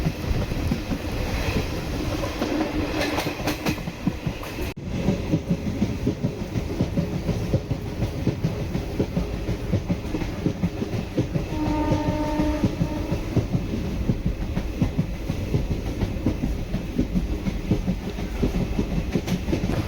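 Chennai Egmore Express running from Kollam Junction toward Chennai Egmore, heard from on board as a steady rumble of wheels and carriage with rhythmic clickety-clack, a brief sharp knock near the five-second mark, continuous and fairly loud throughout.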